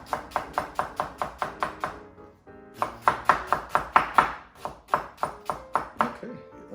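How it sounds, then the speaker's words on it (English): A knife chops an onion on a cutting board for jambalaya, a steady run of crisp, close taps in quick rhythm, pausing briefly before resuming faster. "Okay, the onion is chopped up."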